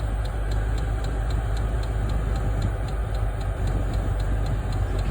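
A diesel heater in an RV runs steadily on its first test, giving a continuous low hum and fan roar with a faint, regular ticking throughout.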